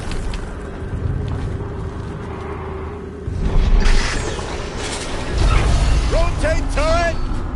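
A turret rotates in Horizon Zero Dawn, producing grinding mechanical whirs and ratcheting creaks in two surges over a steady low rumble, with a few brief chirping tones near the end.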